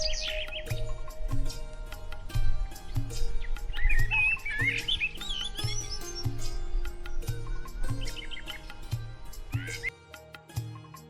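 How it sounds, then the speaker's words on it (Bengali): Many birds chatter and chirp in a large banyan tree, scattered tweets layered over a steady musical backing with a regular beat, the calls fairly faint beneath it. "কত হাজার পাখির কোলাহলে মুখরিত থাকে এই গাছ"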